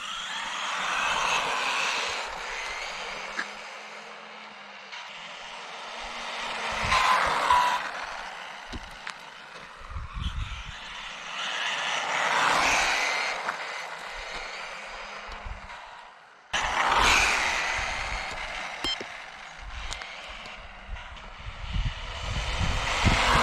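A ZD Racing RX12 RC car makes repeated high-speed passes around a track, its electric motor whine swelling loud as it nears and fading away, several times over.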